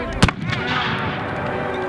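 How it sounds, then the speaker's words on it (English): A Civil War reenactment musket fires 1-ounce lead shot in a single sharp loud crack near the start, followed by a rumbling battlefield wash as a narrator talks over it. "They're firing 1-ounce lead shot, which goes in as a bullet but comes out as a dinner plate"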